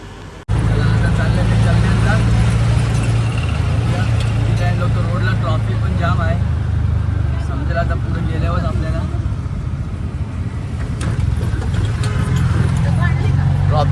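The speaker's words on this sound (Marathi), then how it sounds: "ट्रॅफिक जाम आहे इकडं आज रोडला" Road traffic jam with a constant engine rumble and low roadway noise from idling vehicles close by, a person talking throughout over the steady drone.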